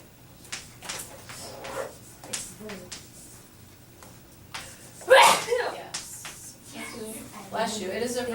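A single sharp sneeze bursts out midway through quiet speech, loud and abrupt against the talking around it.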